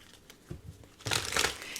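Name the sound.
shuffling a deck of tarot cards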